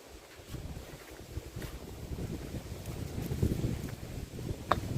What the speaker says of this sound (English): it is rainy and extremely windy